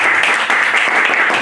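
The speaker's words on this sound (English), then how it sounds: "If you're watching, Paul, round of applause to you." Loud, close applause from a conference audience at a tech talk, a brief dense burst of many hands clapping with individual claps faintly audible in the steady wash.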